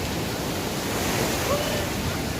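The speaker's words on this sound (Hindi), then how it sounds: "और समुद्र तो ऐसे ही लेयर बनाता रहेगा, वेव्स आती रहेगी, प्राकृतिक बिल्कुल नेचुरल।" Sea waves break on a beach in Goa during the rainy season, a broad, steady wash of surf noise that stays constant and fairly loud, with no distinct voices.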